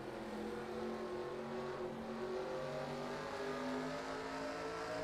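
Race cars in a FASCAR race at Phoenix, with several engines droning together at a steady high pitch, fairly faint and continuous and no voices.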